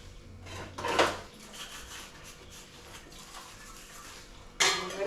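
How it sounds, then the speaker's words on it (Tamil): Dishes and pots clatter and scrape in a sink while being washed, with a couple of louder knocks at the start and end over steady background noise. "கொஞ்சம் பாத்திரம் கிடக்கு அதை கழுவிட்டு இருக்கிறேன்"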